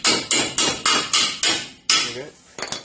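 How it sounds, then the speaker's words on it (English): A hammer strikes the rear strut assembly of a VE Commodore about eight times in a steady rhythm, sharp loud metallic bangs at close range, with no talk. "Hit it with the hammer."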